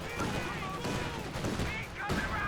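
Raketenwerfer rocket launcher firing on a half-track in Company of Heroes 2, a steady rattle of gunfire and blasts for a few seconds under a caster's commentary, with a sharp report near the end.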